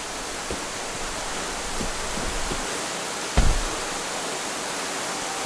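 Steady, broad rushing roar of a waterfall in the video game Valley, a constant wash of falling water with one brief louder thump partway through and no voices.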